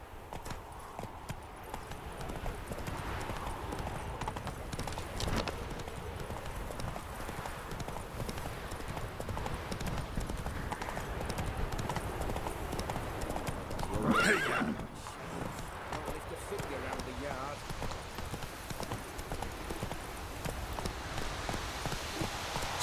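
A horse gallops with steady, rapid clip-clop hoofbeats in The Witcher 3, continuous and moderately loud throughout, with a brief neigh partway through and some faint voice in the background.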